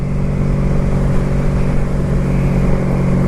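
A Honda Magna Legend cruiser motorcycle rides along in overdrive, its engine giving a loud, close, steady drone with no pauses.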